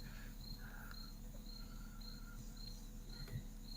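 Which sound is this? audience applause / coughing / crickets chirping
crickets chirping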